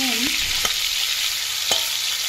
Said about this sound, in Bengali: নুন দিয়ে মোটামুটি এটাকে ফ্রাই করবো, যাতে এটা ভালো করে ফ্রাইটা হয়ে যায় আমার